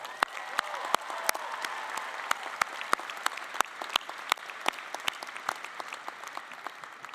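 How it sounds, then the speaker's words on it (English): A commencement audience applauds at Tulane, a fairly distant, even wash of many hands with sharper individual claps standing out, continuing steadily for about seven seconds with no talk over it. "Let's give them a round of applause."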